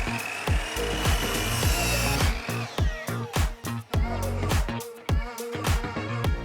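A power saw cuts wooden pieces at a 15 degree angle for the legs of a folding stool, giving a loud, steady whine broken by repeated rhythmic strokes close by, with no talk.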